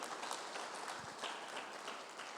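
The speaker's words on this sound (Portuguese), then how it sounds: "As palmas para o Senhor." Congregation clapping during a Portuguese-language church sermon, a soft, dense patter of applause throughout, fairly faint, with no voice over it.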